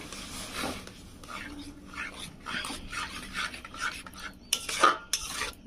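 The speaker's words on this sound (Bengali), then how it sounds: "সুজি এইভাবে নাড়বো" Roasted semolina is stirred with water in a pan for Bengali coconut pithe, producing repeated close scraping and rubbing strokes of a utensil against the pan. Soft clinks and knocks punctuate the irregular, moderately loud stirring.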